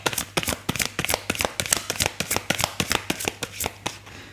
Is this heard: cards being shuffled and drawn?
yes